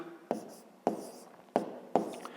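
Four distinct pen strokes on paper while writing numbers for a fifth-grade math exercise, each a sharp scratchy tap with a short scrape, close and clear, spaced about half a second apart.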